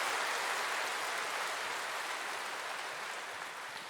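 A church congregation applauds together in a steady, dense wash of clapping that fills the room and tapers off slightly toward the end, with no voices over it.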